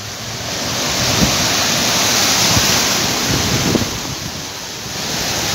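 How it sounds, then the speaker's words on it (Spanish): Heavy rain pouring in Cancún during flooding, a loud constant hiss of downpour with wind gusts and a few low thuds, swelling and easing slightly. "Está muy fuerte la lluvia, sinceramente."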